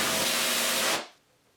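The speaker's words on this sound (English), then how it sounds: "wet sanding a gel to be polished" A spray-like hiss of water from wet sanding a ski boat's gelcoat with 800-grit paper runs steadily, then cuts off abruptly after about a second, leaving near silence.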